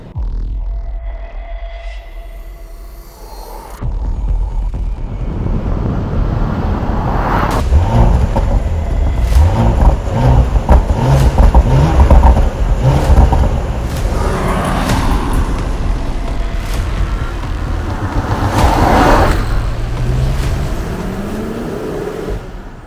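A Porsche sports SUV engine rumbles at a low idle, then catches and runs louder with a throbbing, pulsing note that rises and falls in revs, close and continuous with no talk.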